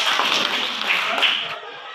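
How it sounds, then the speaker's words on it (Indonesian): Classmates clap for a student in a classroom, a short burst of scattered hand claps that tapers off after about a second and a half, fairly close and lively. "Tepuk tangan untuk Eva."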